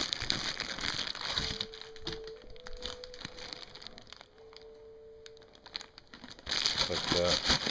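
Crinkling and crumpling of wrapping being pulled off a package, a close rustling texture with brief tearing and rattling bursts, louder at the start and again near the end, with a quieter stretch between.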